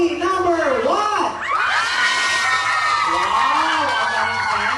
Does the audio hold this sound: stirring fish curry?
no